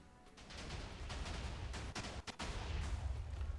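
Minecraft TNT cannon firing, a string of muffled booms and sharp cracks, with several clustered blasts near the middle, quiet and somewhat distant over a low rumbling backdrop.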